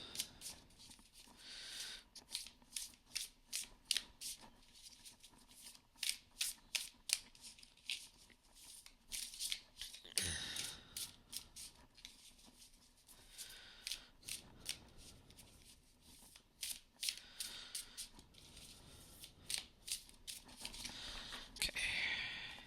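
Tarot cards are riffled and shuffled repeatedly in quick crisp bursts, close by, with brief pauses between the rapid flicking sounds.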